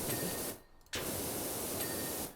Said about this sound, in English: So just periodically giving that a little bit of a spray.